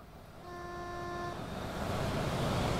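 A train horn in the Train Simulator game, on the South Wales Coastal route from Cardiff to Holyhead, sounds one steady multi-tone blast lasting close to a second, over a constant engine and rolling rumble that swells slowly afterward.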